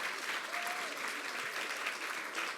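Dense applause from an audience at a talk, steady and sustained throughout, many hands clapping at once at a moderate distance.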